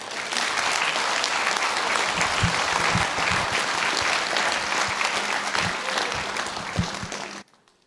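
Sustained, loud applause from a gala dinner crowd for a speaker, dense and even for several seconds before cutting off abruptly, with faint voices mixed underneath.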